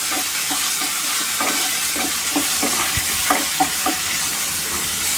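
Small shallots frying in oil for a mutton gravy, a constant sizzle and hiss with repeated scraping stirs of a spoon against the pan, close up.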